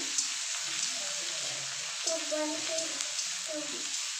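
Ginger paste frying in a pan, a steady bright hiss of sizzling oil with soft stirring scrapes, close and moderately loud throughout.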